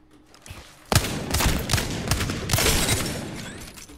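Gunfire from the Wingman pistol in Apex Legends, a burst of several sharp, loud shots starting about a second in, with rapid reports and game action noise crowding closely behind.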